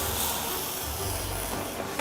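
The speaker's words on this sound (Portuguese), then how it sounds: "A gente joga ele na panela, ele começa a soltar um pouquinho de aroma e a gente já na sequência já coloca um pouquinho da água do cozimento" Starchy pasta cooking water hits a hot pan with black pepper, giving a dense continuous hiss and sizzle of steam at close range throughout.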